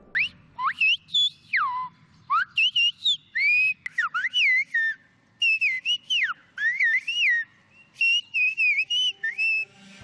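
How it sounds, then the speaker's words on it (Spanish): Silbo Gomero, the Canary Islands whistled language: a series of clear, piercing whistled phrases with rising and falling pitch glides, delivered in short bursts like speech, with no voices. "la denominación que en la actualidad se da al silbo gomero"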